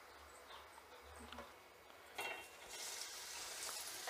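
Bangda mackerel dipped in flour batter lowered into hot oil, the frying hiss swelling sharply and spreading broadband partway through, with faint stirring and clinks before it.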